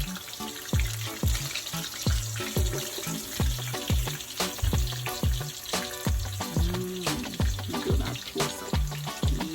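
Mustard-coated fish fillet frying in oil, a steady crackling sizzle carried through with soft scraping, clinks and rhythmic low thumps beneath it.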